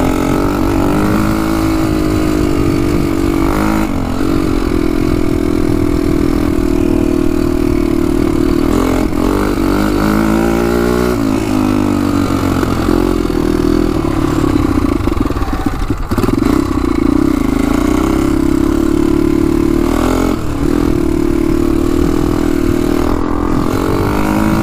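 A 1988 Honda 250X quad's engine drones steadily and loud while being ridden, with small rises and dips in pitch as the throttle shifts and a clattery mechanical edge throughout.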